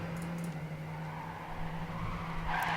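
A race car in Trackmania spins out, its tires skidding and squealing in a sustained smear under a droning engine, the noise rising sharply near the end.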